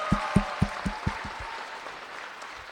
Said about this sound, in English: How about a big round of applause for Amelia?